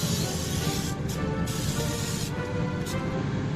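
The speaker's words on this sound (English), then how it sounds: "And we need to spray this side" A hissing olive oil cooking spray, released in a few short bursts over a steady background hiss, close by.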